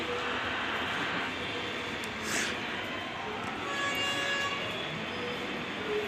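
A train draws near along the tracks, a steady low rumble with rising rail noise and faint high horn-like tones, moderately distant and fairly even in level throughout.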